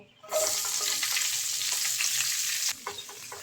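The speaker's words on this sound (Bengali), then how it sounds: "তেলের মধ্যে এখন বরবটিগুলো দিয়ে দেব" Yardlong beans drop into hot oil, and a loud sizzling roar bursts up suddenly and holds steady. It cuts back sharply to a quieter crackle near the end, with no one speaking.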